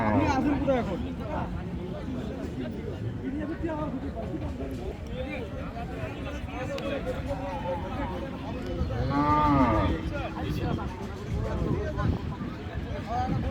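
Friesian cow and calf at a busy livestock market, with lowing moos rising over constant crowd chatter and nearby talking.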